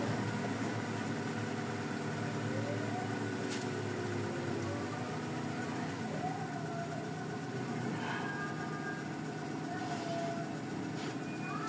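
A Toyota Corolla 4A engine idles steadily with the air conditioning off, a continuous near rumble with faint higher whines running through it, no talk over it.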